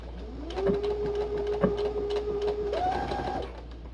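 A Baby Lock 3.5 sewing machine stitches at a slow, even pace with a steady motor hum that rises in pitch near the end, close and clear with no talking.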